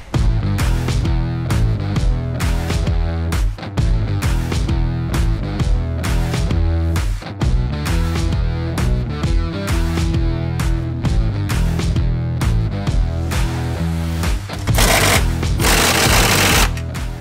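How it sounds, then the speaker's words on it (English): A drill bores holes into a C6 Corvette chassis during a drift build at a performance shop, giving a loud, continuous grinding clatter with rapid rhythmic bursts throughout and a harsher, louder stretch near the end. "Drill some holes."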